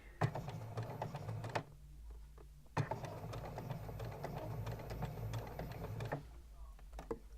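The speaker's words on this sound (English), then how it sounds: "there isn't really any other way that you could ensure that that pleat stays folded as you sew over it" A home sewing machine stitches over a pinned back pleat on a garment, two quiet bursts of rapid mechanical whirring and needle clatter separated by a short pause, close and fairly faint.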